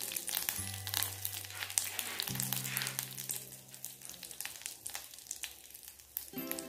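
Curry leaves hit hot oil with mustard seeds and dried chilli, crackling in a close, busy sizzle with scattered pops, while a low steady hum runs beneath.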